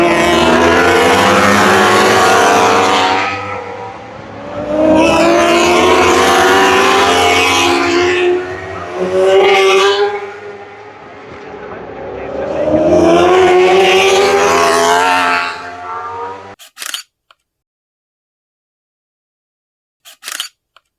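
British Superbikes race past trackside at Oulton Park, their loud engines swelling and fading in several long passes. Near-silence follows, broken by a few brief clicks.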